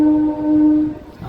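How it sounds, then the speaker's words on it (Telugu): A MEMU passenger train at Dharmavaram Junction sounds one long, steady horn blast close by, lasting about a second before cutting off, with no voices. "ఆహా ఎంత కమ్మగా ఉందండి హార్న్"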